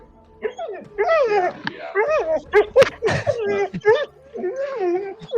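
A pet dog begs with a run of high whimpers, yips and whiny cries, rising and falling in pitch, close and fairly loud for several seconds.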